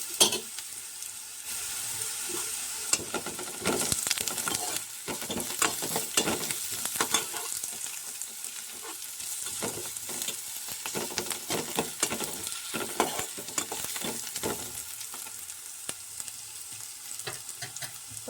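Crushed ginger and garlic fry in a pan with a steady close sizzle, broken by frequent scraping stirs of a spoon against the pan, with no talking.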